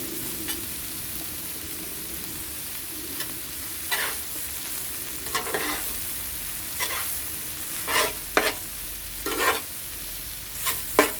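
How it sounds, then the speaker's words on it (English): Mee goreng noodles fry on a very hot BBQ plate with a steady close sizzle, broken by repeated scraping and stirring strokes from a utensil at irregular intervals. "you have a very hot plate here. The thing we're going to add to this is our noodles."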